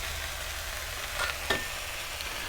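Smoked Canadian back bacon fries in a pan, throwing off a dense, even sizzle close up, with a couple of faint clicks and a brief spit partway through.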